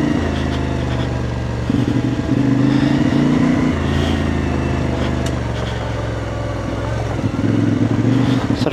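A motorcycle ridden off-road in Spain, with the rider standing on the pegs, holds a steady close engine drone with a rev rise in the middle, loud and continuous throughout.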